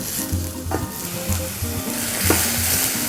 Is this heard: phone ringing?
no